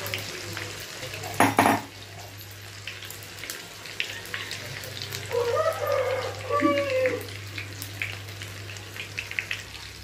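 Apollo fish frying on a low flame is stirred gently in the pan, with soft scraping and clinking of a spoon against metal over a low sizzle and a steady background hum.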